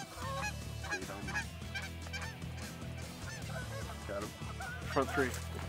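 Wild geese honk during a goose hunt on a fenceline hillside, a busy chorus of overlapping calls from several birds, some nearer and louder, rising toward the end over steady background noise.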